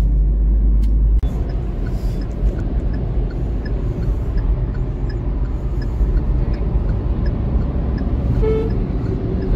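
A car travels along Bombay Road, a highway out of Kolkata, in light fog. A loud, steady road and engine rumble runs throughout, with brief horn toots from traffic near the start and end, and no one talking.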